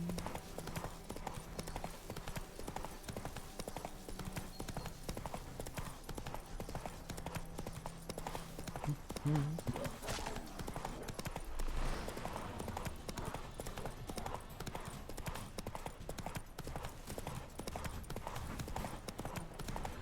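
Horse hooves gallop steadily in The Witcher 3 video game, a continuous rhythmic clip-clop running throughout under game sounds and occasional talk.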